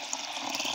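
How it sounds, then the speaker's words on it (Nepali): Water is poured over dried timur seeds in a steady, splashing stream, close and continuous for under a second with no voices. "मजाले पानी हालेर"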